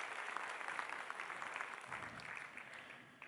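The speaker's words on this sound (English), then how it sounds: "Give her a round of applause." Audience applause at a National BPD Awareness Day panel event, a steady even patter of many hands clapping throughout, moderately loud and fading slightly toward the end.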